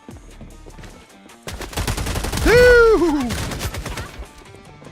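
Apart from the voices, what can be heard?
sniper rifle gunshots in a video game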